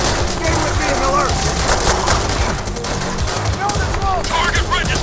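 Dense World at War video game battle with rapid machine-gun fire, rifle shots and booming artillery barrage, continuous and loud, with shouted voices mixed into the combat.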